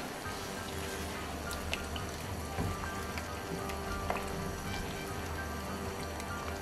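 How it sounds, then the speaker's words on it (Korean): Kimchi tteokbokki simmering in a pan over medium heat, a steady close bubbling with scattered drip-like pops and small spatters, continuous and even without voices. "떡이 말랑해질 때까지 중불에서 그대로 끓여주시면 돼요."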